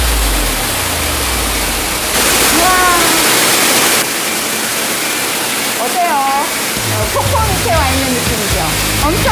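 A waterfall in a jungle dome botanical garden roars loudly with a dense, constant rush of falling water, while people's voices rise over it at moments.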